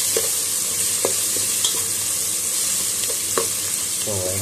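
Onions fry in a pan with a constant, close sizzle, broken by a few sharp clicks and scrapes of stirring.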